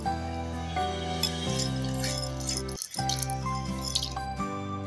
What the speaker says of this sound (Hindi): कुकर के अंदर अपनी ये दाल हम इसमें डाल लेंगे।